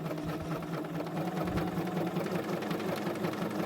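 A sewing machine runs steadily as it stitches a skirt seam while an invisible zip is put in. Its fast, even mechanical whir and needle clatter are close and continuous, and no one speaks.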